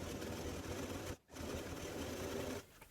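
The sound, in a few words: sewing machine stitching velvet fabric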